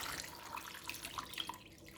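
Cold tap water running and splashing into a pan of potatoes, a steady, faint trickle with small droplet spatters, heard alone.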